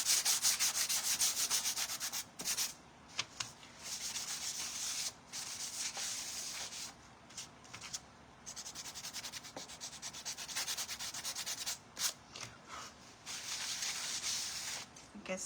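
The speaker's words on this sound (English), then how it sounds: "It gets dusty after you finish sanding it." Hand sanding of wood, a steady raspy scraping in continuous strokes with several brief pauses, fairly close and alone with no talk.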